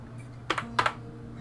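Two quick keystrokes tapped on a computer keyboard, close and fairly quiet, with a low steady hum underneath and no talking.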